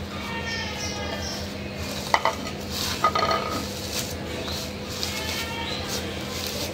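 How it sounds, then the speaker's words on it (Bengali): Onion and dried chilies get mixed in a pan, with a utensil clinking and scraping against the metal in scattered, close taps over a low steady background hum. "পেঁয়াজ আর শুকনো মরিচ এখন ভালো করে মিলাই নিব"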